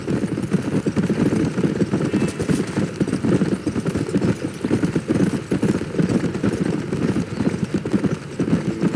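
A horse's hooves clip-clop at a steady trotting rhythm in the Red Dead Redemption video game, continuous and close, with a low background drone.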